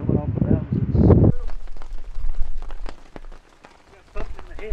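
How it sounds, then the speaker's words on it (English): Rain falls in the mountains at a low-budget motorcycle campsite on Grand Mesa, a steady close patter of drops on surfaces. A voice speaks briefly at the start before the rain carries on alone. "A little rain right here."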